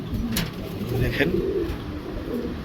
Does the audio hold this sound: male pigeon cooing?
yes